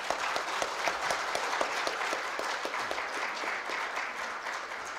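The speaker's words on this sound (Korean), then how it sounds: "뜨거운 격려의 박수를 부탁드립니다" A hall audience at a Rotary club founding ceremony claps warmly for the new club president, sustained even applause with distinct sharp individual claps up front.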